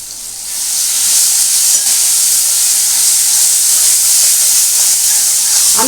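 Spice paste sizzles in added white oil for a potato and egg curry, giving a loud, steady hiss of frying that runs unbroken and close throughout.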